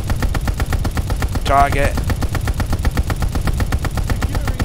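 Rapid machine gun fire from a ball turret gunner in Call of Duty, a steady stream of close, loud bursts throughout, with a short spoken word cutting in partway.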